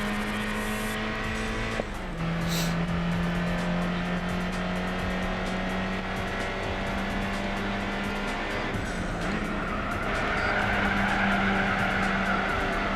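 A Renault Alpine drifting through tunnel curves in the Gran Turismo 4 racing game, a sustained loud tire squeal over a steady engine drone, with pitch shifts as the slide changes and no talk.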